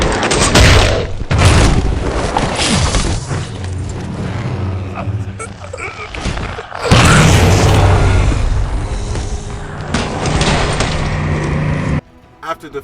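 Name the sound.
grenade explosion in the video game Halo 4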